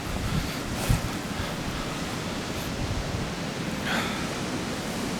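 Wind blows steadily outdoors around an abbey, a broad rushing hiss buffeting the microphone with a few stronger gusts, no voices over it.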